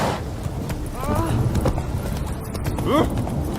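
Roach, a horse in The Witcher 3 video game, trots with steady clip-clop hoofbeats beneath game ambience, while a voice talks and exclaims over the top.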